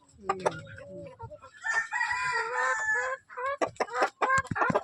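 Colombian Brahma cross chickens cluck and crow close by, a loud rooster crow in the middle flanked by bursts of clucking.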